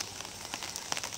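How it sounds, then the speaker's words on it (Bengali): Light drizzling rain falling outdoors, a faint soft patter of scattered drops with no voices. "এই রে অবস্থা, বৃষ্টি চলতে আছে।"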